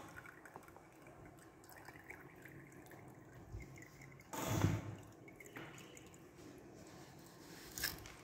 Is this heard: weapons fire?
no